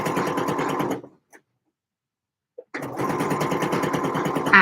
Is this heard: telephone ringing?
no